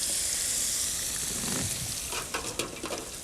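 Fish frying in hot oil with batter drizzled over it, a loud, steady sizzling hiss close up, with a few small pops and crackles near the end.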